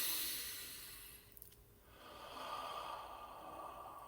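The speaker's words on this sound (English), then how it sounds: "Take a deep breath, breathe that in." A single deep inhaled breath through the nose, close and fairly loud, fading into quiet with a faint airy hiss afterward.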